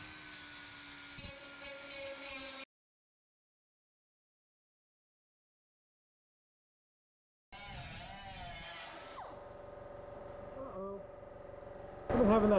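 A power cutting tool bites into the steel floor pan of a Triumph Spitfire along a marked cut line: loud, whining grinding bursts with a long silent pause between them, ending in a harsher, louder burst.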